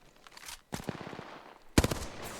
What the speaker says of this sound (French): Eh, je me fais arroser.